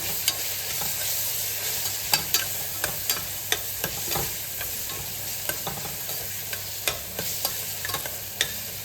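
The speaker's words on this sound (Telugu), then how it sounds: "అల్లం వెల్లుల్లి పేస్ట్ కొంచెం సేపు బాగా వేగనివ్వాలి ఆయిల్లో" Ginger garlic paste frying in hot oil for a Rayalaseema-style country chicken curry, a continuous close sizzle broken by regular light clicks and scrapes of a stirring spoon.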